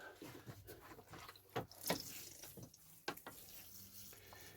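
Water poured over freshly sown broad bean seeds in soil, soft splashing and trickling in irregular bursts with a few sharper spatters, fairly quiet and close.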